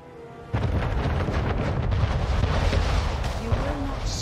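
A ship being destroyed in the strategy game Anno 1800, heard as a sudden loud burst of booming, explosive rumble that rolls on steadily for several seconds, with a brief low whine near the end.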